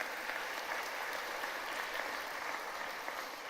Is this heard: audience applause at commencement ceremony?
yes